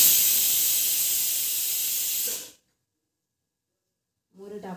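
Cumin seeds sizzling loudly in about one to one-and-a-half spoonfuls of hot oil while making kadhi, a steady bright hiss that cuts off abruptly halfway, followed by silence and then a brief voice at the end.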